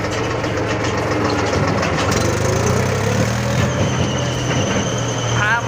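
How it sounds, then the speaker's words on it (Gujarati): A village tractor idles with a steady, loud low engine rumble, a faint whistle rising within it, while people talk over it. "ટેકનોલોજી વાળું ટ્રેક્ટર."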